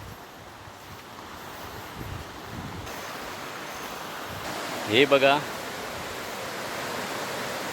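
A waterfall pours over a stream at Ghonsari Sapatwadi as a steady, broadband rush of falling water with some wind noise. A voice speaks briefly over it.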